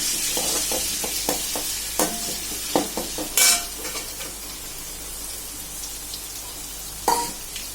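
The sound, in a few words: crushed ginger and garlic frying in hot sesame oil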